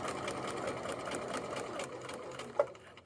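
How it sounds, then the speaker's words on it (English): A sewing machine runs steadily, stitching a fabric seam with a 5/8 inch seam allowance, a continuous close whir with a brief sharp click near the end. "As I sew, I'm just going to make sure that the edge of my fabric is lining up with the 5/8 groove."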